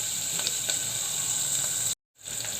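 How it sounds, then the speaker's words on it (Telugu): Onion pieces sautéing in a pan, a steady close hissing sizzle with faint crackles, briefly cut to silence near the end before resuming. "ఒక సెకండ్ ఉల్లిపాయ ముక్కలన్నీ బాగా మగ్గించుకుందాం."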